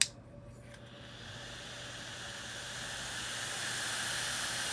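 A Jsaux clamp-on cooling fan for the Steam Deck runs at maximum speed, a steady airy hiss with a low hum that rises after a brief click and keeps building in loudness.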